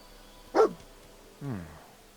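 Dogmeat, the dog companion in the video game Fallout 4, gives two short separate barks, the second a longer whining yelp, fairly close and loud over a quiet background.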